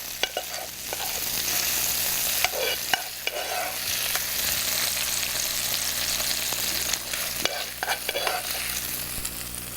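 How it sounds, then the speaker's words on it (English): Sauce sizzles steadily in a hot pan with pork scallopini and cannellini beans, a dense continuous crackle with a few sharper spits and stirring clatters throughout. "And then we're going to add some of the sauce."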